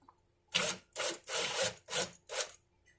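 A banjo tuner hole is reamed out through the lacquer, five quick close scraping strokes in an uneven rhythm, separated by short silences, with no talk.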